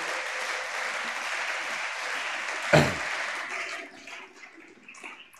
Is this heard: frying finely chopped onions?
no